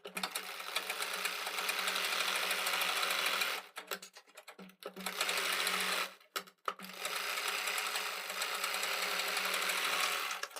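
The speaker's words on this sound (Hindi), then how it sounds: "इस पे हम बुकरम के ऊपर किनारी पर सिलाई लगाएंगे" A sewing machine stitches a fabric edge onto buckram for a round neck piping design, running in fast steady bursts with two short pauses, the rapid needle chatter close and even.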